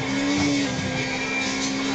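Tuned Suzuki Cappuccino racing engine drones loud and close, a steady high-revving hum held for a couple of seconds with no talking.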